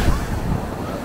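Surf on Alubihod Beach in Guimaras, rough during the habagat monsoon: a steady low wash of churning waves with wind buffeting the microphone, continuous and fairly loud for about a second.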